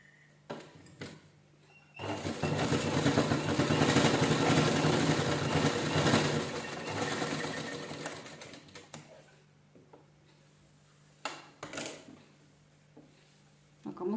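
A sewing machine runs in one long steady burst, stitching a petal cut from an old T-shirt onto a fabric doormat, then stops, followed by a few short stop-start runs and clicks.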